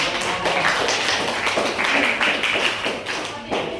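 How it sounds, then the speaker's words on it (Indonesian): Classroom students clapping for a classmate, a quick rhythmic round of claps close by, fairly loud and steady for a few seconds before tapering. "tepuk tangan buat Ajis"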